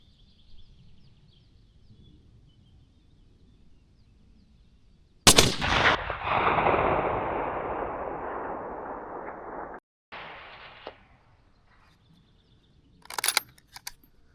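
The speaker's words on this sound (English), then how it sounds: "And firing." A single loud rifle shot fired during a roebuck hunt cracks sharply outdoors and rolls away in a long, fading echo over several seconds, with quiet ambience before and a short faint burst of noise near the end.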